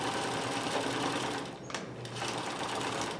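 A Necchi Supernova sewing machine runs continuously while stitching a buttonhole bar tack, a steady, close mechanical whir and rapid clatter with one brief pause in the middle.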